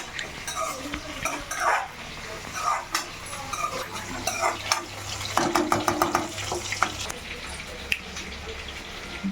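Fried rice with soy sauce being stirred in a pan: a spatula scrapes and clinks against the metal in uneven bursts, with a faint sizzle and a voice talking at times.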